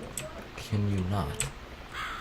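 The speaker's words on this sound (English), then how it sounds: "How do we get rid of this bird?" A crow caws in The Cat Lady video game, one loud, close, drawn-out caw among quieter game sounds, with someone talking.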